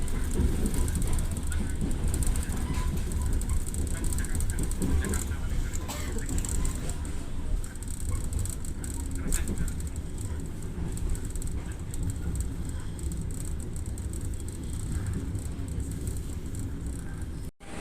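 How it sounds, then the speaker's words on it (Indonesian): The Jayabaya passenger train rumbles steadily past for the whole stretch, a constant loud low roar with faint clatter, ending abruptly. "kereta api Jayabaya sudah melintas langsung"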